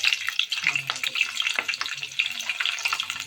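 Dry and green chillies fry in hot oil with spices for mango pulihora, giving a dense, crackling sizzle with quick stirring clatter throughout.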